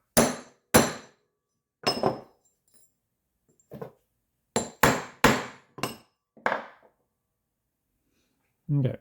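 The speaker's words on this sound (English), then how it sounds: "I can simply set that here and use a brass hammer" A brass hammer taps a sterling silver ring resting on the flat face of a ball peen hammer, a series of about nine sharp, bright metallic strikes in irregular clusters, close and loud with brief silences between.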